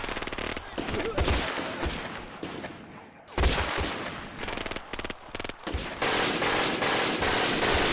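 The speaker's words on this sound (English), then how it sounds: "I keep hearing that MG." Sustained bursts of machine gun fire in the WWII tank game Graviteam, a German MG firing loud, dense rattling volleys with brief pauses, with other gunfire crackling under it.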